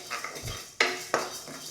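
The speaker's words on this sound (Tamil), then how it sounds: "இந்த மாதிரி கை விடாமல் கிண்டிகிட்டே இருந்தால் தான் ஈவனாக வறுப்படும்" Toor dal dry-roasts in a pan while being stirred, heard as a few distinct spoon-on-metal clanks and scrapes, quiet and close, with no talking.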